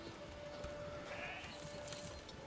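Sheep bleat faintly in the Manor Lords video game, a few short distant calls over a constant soft rustling ambience with no talking.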